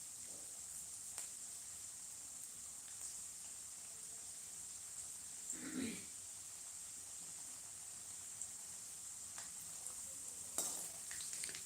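Peanuts, chana dal and urad dal frying in hot oil, giving a quiet steady sizzle and hiss throughout, with a few soft stirring scrapes and clinks now and then.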